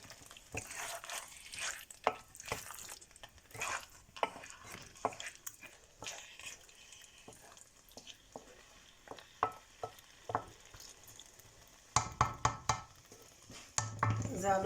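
Beef kala bhuna cooks in a pot on low gas while being stirred, with soft intermittent scraping and clinks of a utensil against the pot over a faint sizzle, growing louder and busier near the end.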